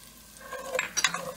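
Golden brown onions frying in a pan with salt: a soft sizzle with a couple of quick stirring scrapes, close and fairly quiet.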